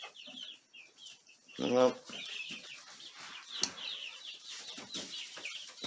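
Backyard chickens cluck and squawk close by with a burst of wing flapping, while a person says a word and talks quietly among the birds.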